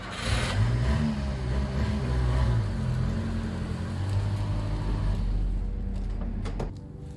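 A Subaru Sambar engine running while backing up, a steady low rumbling drone with slight shifts in pitch, close and loud, with faint clicks as it settles near the end.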